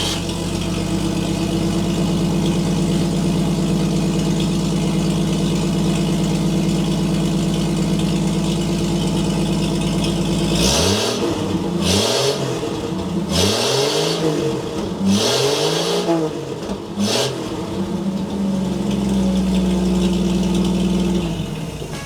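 A car engine idles steadily, then revs in repeated rising and falling bursts before settling back to a loud idle, heard from inside a car being soundproofed with boom mats and an access panel, with the exhaust not yet routed out the back.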